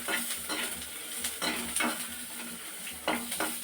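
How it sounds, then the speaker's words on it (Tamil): Peeled garlic cloves frying in a pan for spicy kara chutney, a soft continuous sizzle with regular scraping stirs and light utensil taps against the metal, close and without talk. "பூண்டு அதே மாதிரி நல்லா வறுக்கணும்."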